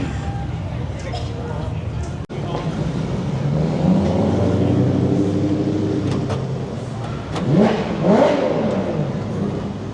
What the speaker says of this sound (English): give us a cold start of this beautiful F12